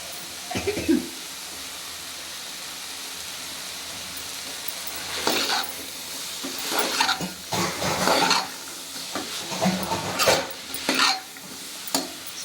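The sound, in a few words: beetroot and beans being stir-fried with masala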